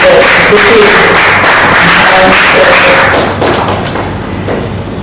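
An audience claps at a World FM Day commemorative event. The applause is loud and distorted, with heavy thumping and a tonal hum underneath, and it fades somewhat toward the end.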